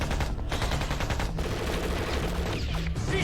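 A crime TV movie shootout delivers loud, sustained gunfire as rapid overlapping shots in a continuous volley over a dense action soundtrack.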